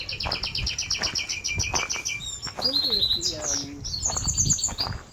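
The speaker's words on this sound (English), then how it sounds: "It's an aviary." Birds chirp and twitter in an aviary at Kenilworth Castle's Elizabethan garden, with rapid repeated high tweets and warbling calls filling the clip, close and fairly loud, over a low murmur of background noise.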